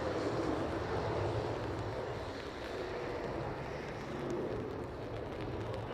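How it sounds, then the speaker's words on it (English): An Aer Lingus Airbus A320 arriving from Manchester at Dublin Airport, heard as a steady, fairly faint and distant broad jet roar with a faint windy rush that stays even throughout. "Aer Lingus 320 next from Manchester."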